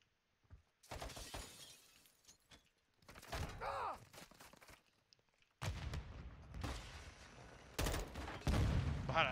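Call of Duty: Modern Warfare 2 gunfire comes in several bursts of shots mixed with glassy, shattering impacts, some loud and close, with quiet gaps between them.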